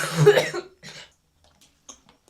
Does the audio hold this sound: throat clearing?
yes